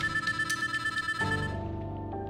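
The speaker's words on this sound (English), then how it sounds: "His phone rings." A phone ringtone plays in a short repeating electronic pattern, loud and close, with no talk over it.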